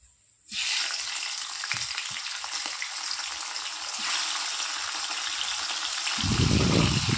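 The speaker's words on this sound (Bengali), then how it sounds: "দেখো এখন আমি মাছগুলো ভাজা করে নেব" Fish pieces sizzle steadily in hot oil in a pan, a continuous close crackle that begins abruptly after a brief silence, then swells into a louder, fuller hiss near the end.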